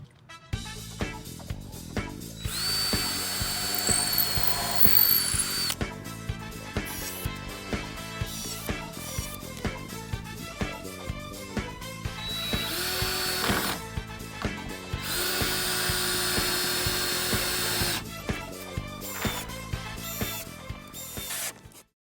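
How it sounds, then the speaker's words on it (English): A power drill drives screws into a 4x4 wooden raised-bed post, with repeated bursts of whirring that rise and stop, loud and close, one long sustained run near the middle and another toward the end. "when we're putting our screws into the 4x4 post"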